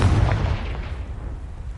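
A Confringo fire spell explodes in Hogwarts Legacy on PS5: a single deep, booming blast whose low rumble is loudest at the start and slowly fades over about two seconds.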